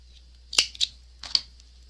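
Three crisp, close snips of scissors trimming the end of a braided kumihimo cord for a zipper pull, spaced irregularly over a quiet background with no talking.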